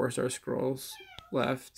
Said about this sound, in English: Sorry about the cat.